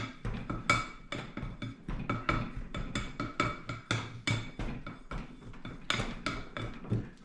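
Cinnamon roll dough being mixed in a bowl, producing a steady run of rhythmic knocking and clinking strokes, close and fairly quiet, with no voice over it.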